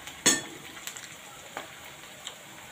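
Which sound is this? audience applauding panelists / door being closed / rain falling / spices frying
spices frying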